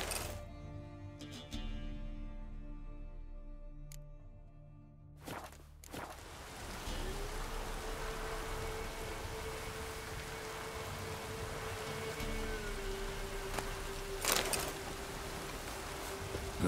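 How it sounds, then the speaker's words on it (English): Rain in The Witcher 3 on PC sets in as a steady, dense hiss that fills the scene, with scattered footstep-like thuds and a faint tonal hum running beneath. "Looks like rain."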